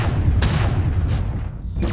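Heavy mech weapons firing in MechWarrior Online on the Polar Highlands map from an Atlas AS7-D, loud booming shots with a deep rumble and a couple of sharp cracks, close and dominant.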